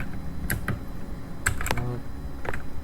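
Sparse keystrokes on a computer keyboard while commands are typed, a few close individual clicks and a short quick burst against a low background hum.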